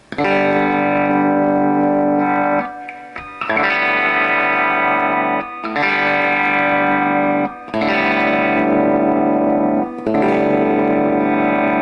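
An electric guitar on its bridge pickup, played through distortion and effects, rings out in loud sustained chords, each held for about two seconds with short gaps between strikes.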